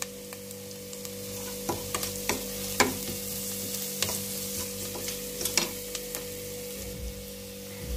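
Onions frying in a pan for a homemade tripe dish: a soft, steady sizzle with scattered ticks and scrapes from stirring. It sits fairly quiet and close, with no voices.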